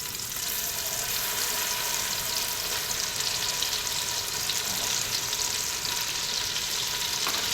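Tomato paste fries with a cinnamon stick in a pan for red rice, making a constant, even sizzle heard up close with no talking.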